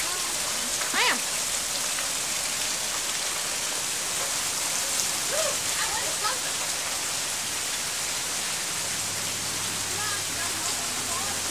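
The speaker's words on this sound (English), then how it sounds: "that rain is getting blown on me" Steady rain hisses continuously, a dense wash of falling drops with a few faint chirps or squeaks now and then.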